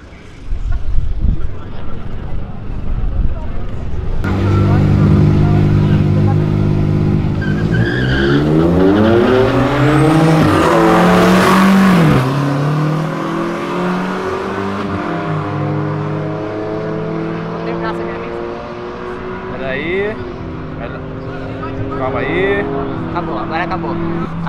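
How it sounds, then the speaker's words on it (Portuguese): A Hyundai HB20 and a Volkswagen Polo race in a street drag, engines revving hard and climbing through gear shifts with tire squeal, loud and close, while people talk and shout throughout. "que aí o racha vai ficar legal. Que é o HB20 contra o Polo agora."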